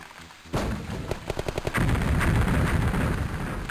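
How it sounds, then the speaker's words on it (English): Gunfire and explosions in a WWII video game set during an Allied Rhine crossing at Essen: loud, dense rattling bursts and heavy booms that start suddenly and continue without a break. "There are way too many explosions."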